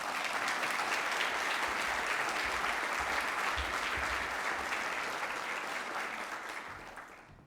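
Sustained audience applause welcoming a judge at a university law lecture, a steady roomful of clapping that holds evenly and then tapers off at the end.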